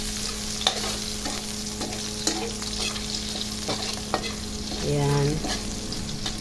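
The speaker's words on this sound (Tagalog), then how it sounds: "Habang tayo ay nagpapalambot ng ating arroz caldo, magpa-crunchy naman tayo ng bawang." Garlic fries in oil until crunchy for arroz caldo, a constant close sizzle broken by the clinks of stirring, with one brief spoken word.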